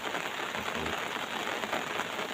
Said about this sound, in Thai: คือหวังว่าฝนคงไม่หยุดตกแน่ๆเลย